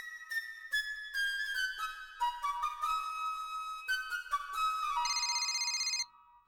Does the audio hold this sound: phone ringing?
yes